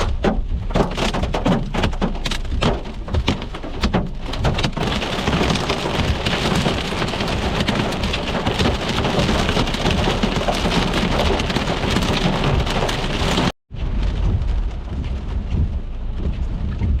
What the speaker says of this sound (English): Yep, that's a river of hail.